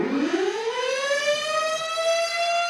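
A Moonboy tornado siren sample made with the Vital synth swells upward in pitch and holds a loud, wailing tone, with no talking.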